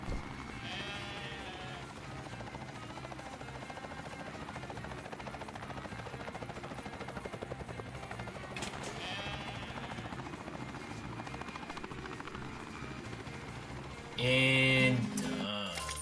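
Sheep bleats from the video game Ty the Tasmanian Tiger 2 over steady game music and a droning helicopter-like background, with a louder burst of sound near the end.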